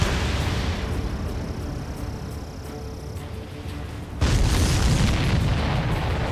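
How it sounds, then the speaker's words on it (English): A deep, booming explosion in the video game Ace Combat 7 bursts in suddenly partway through, loud and full, over a steady rumbling background with no talking. "Did you see that explosion?"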